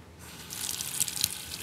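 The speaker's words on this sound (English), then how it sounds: "Now take this to the sink and fill so that everything is covered by at least 2 inches." Water runs from a sink tap into a large stock pot, a soft steady gush that swells after a quiet start, faint and close with no talk.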